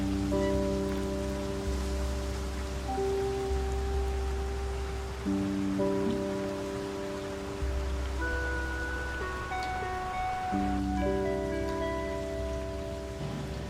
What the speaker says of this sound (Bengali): আর বৃষ্টি তো কমার এখনো কোনো সম্ভাবনাই দেখছি না